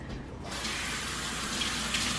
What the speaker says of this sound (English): Give a little rinse to the hands.